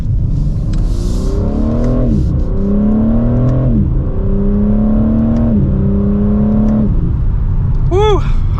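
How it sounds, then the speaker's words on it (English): A 2023 BMW M4 Competition xDrive coupe accelerates hard through several gears, the exhaust note climbing and dropping at each upshift, loud and close from inside the cabin, ending with a brief sharp burble. "So we will do one last acceleration here for today's video."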